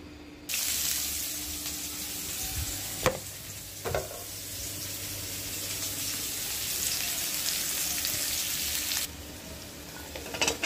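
Fish and cumin seeds frying in oil, a continuous close sizzle with a few sharp clinks of a utensil against the pan, no voices.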